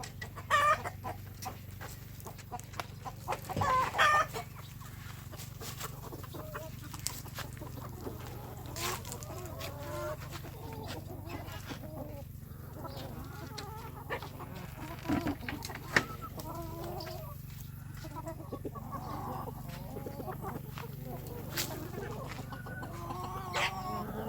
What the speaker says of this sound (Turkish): Tavuklar gördü beni. Alışıklar her sabah bunu bekliyorlar.